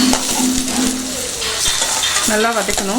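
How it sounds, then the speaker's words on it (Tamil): Onions saute in a pan with green chillies and curry leaves for carrot rice, giving a dense close sizzle with metallic stirring clinks. A brief tonal whine rises and falls near the end. "அதுக்கப்புறம் வெங்காயம் வந்து நல்லா நம்ம வதக்கணும்"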